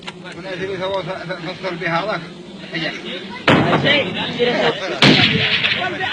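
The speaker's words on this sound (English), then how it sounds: "welcome Sheikh Abdullah and the Amars, showing off their shooting skill" Tribesmen on a mountainside fire guns in a shooting display, with two loud, sharp blasts standing out over a continuous murmur of crowd voices and a broadband rumble.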